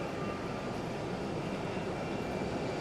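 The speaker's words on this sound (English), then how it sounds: "It's a little Embraer." SkyWest Embraer regional jet at Phoenix Sky Harbor Airport, a steady, distant broadband engine roar with a faint tonal whine, continuous and even throughout, with no talk.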